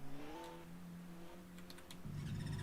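A race car engine in rFactor 2 cranks and catches, settling into a steady idle, then revs up with a sharper, louder note near the end, with no talking.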